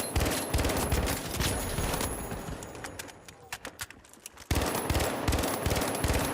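A bot in the video game The Finals fires an M60 in rapid bursts of gunshots, loud and dense at first, thinning to sparse shots midway, then resuming heavy fire; a faint voice may sit under the shooting.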